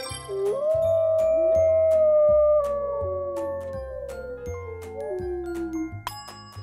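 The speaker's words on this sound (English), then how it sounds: "Wolf." A wild wolf gives a single long, sustained howl that slides slowly downward in pitch and fades out, set over a light rhythmic musical backing with chime accents.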